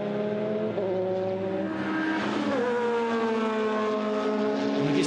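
BMW and Porsche race cars roar together in a 12-hour endurance race, layered engine notes whining and shifting pitch as they pass close, loud and continuous with no talk.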